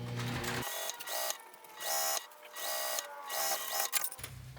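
Sewing machine stitching a zipper onto a fabric pouch in steady bursts of rapid whirring, with short pauses between runs and a low motor hum.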